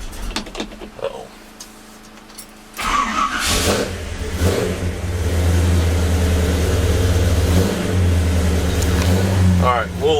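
A 1971 Chevy truck engine catches and settles into a loud, steady rumbling idle as it warms up, close by, with a few faint voices and a brief rev near the start.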